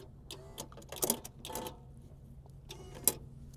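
A motorized hose reel retracts inside a Mercedes Sprinter luxury coach, giving a quiet, steady low hum with scattered light clicks and ticks, plus one sharper click near the end.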